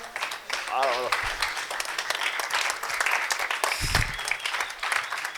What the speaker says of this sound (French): C'était Messia, Providence et Auguste pendant qu'ils saluent le public et que nous acclamons très fort